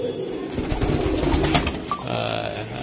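Racing pigeons cooing in a loft, soft throaty coos repeating up close over a low murmur, with a person talking nearby.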